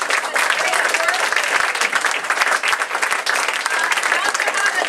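An audience claps in a big, steady round of applause at a college radio event honoring guests, dense and loud throughout without pause.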